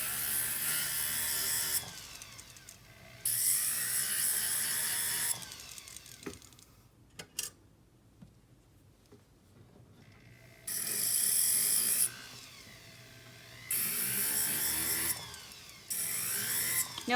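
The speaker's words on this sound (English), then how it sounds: "when you're sanding something like this with a rotary tool" A small rotary tool sanding a silver pendant whines in bursts of high-pitched grinding, stopping and starting several times with quiet gaps and faint clicks between passes.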